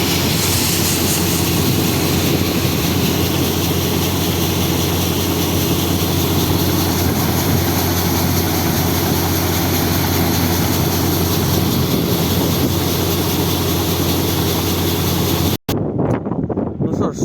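A combine harvester threshes soybeans planted at different seeding rates, giving a loud, steady mechanical roar with a constant engine drone that holds for most of the stretch before cutting off abruptly near the end.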